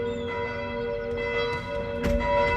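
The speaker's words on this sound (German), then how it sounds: "Die Jakobuskirche in Bronn heißt mich mit einem Glockengeläut willkommen." Bells of St. James church in Bronn ringing a welcoming peal, sustained resonant tones ringing continuously and fairly clearly across a quiet Franconian village, with a faint rustle of wind.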